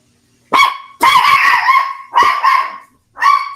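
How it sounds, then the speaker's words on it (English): A tiny five-pound dog barks sharply and close by, a quick sequence of four or five high, yappy barks in short bursts with brief silent gaps between them, and no talking. "That's my Cujo, 5-pound crazy dog."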